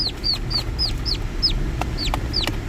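A live take-home chicken clucks nearby in a quick, even series of sharp, bright calls, about eight in under three seconds, over a low background rumble.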